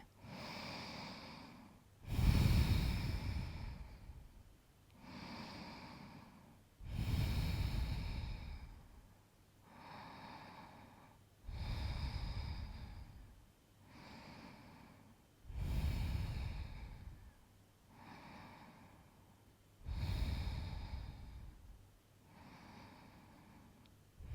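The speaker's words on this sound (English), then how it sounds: "3 deep breaths here." Slow, deep breathing during a reclined-twist yoga flow: about six even cycles of long inhales and exhales at a steady rhythm, close and fairly quiet, with no talking.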